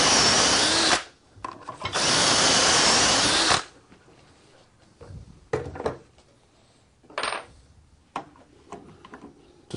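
A power drill bores the final dowel holes in hardwood through a Dowelmax jig on a 1x12 to 4x4 offset joint, two loud sustained bursts of drilling followed by quieter knocks and handling clatter.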